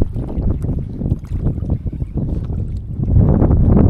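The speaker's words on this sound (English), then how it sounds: "As you guys can hear, it's pretty windy over here" Gusty wind buffets the microphone beside a lake, a loud low rumble rising and falling in uneven bursts and growing stronger toward the end, with no voices.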